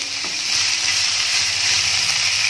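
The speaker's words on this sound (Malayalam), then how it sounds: "ഇനി നമ്മൾ ഇതിലേക്ക് 8 ഉള്ളി ഇട്ട് കൊടുക്കുന്നു" Onions with salt frying in a pan for a biryani, a steady loud sizzle running through the whole stretch with faint stirring scrapes underneath and no voices.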